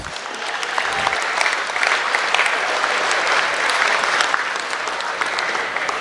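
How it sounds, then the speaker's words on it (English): Spectators at a sheep show applaud the exhibitors, a loud, full round of clapping from a sizeable crowd, sustained evenly for several seconds. "let's give them a big round of applause."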